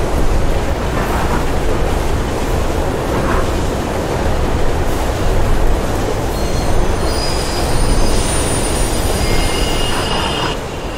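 Train rumbling through a tunnel in the video game Mirror's Edge, a loud continuous roar with high wheel squeal rising toward the end, with no talk.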